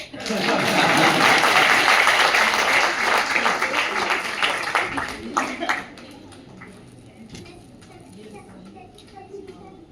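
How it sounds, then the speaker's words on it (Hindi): An audience at an award ceremony claps loudly for about six seconds, then the applause thins and fades under a nearby speaking voice. "लोग ताली बजाइए"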